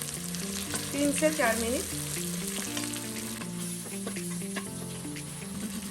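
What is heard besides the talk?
ginger and garlic frying in a pot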